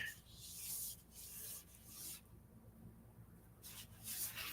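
A hand rubs a sore spot, producing soft, close swishing strokes that rise and fall in several passes with no talking.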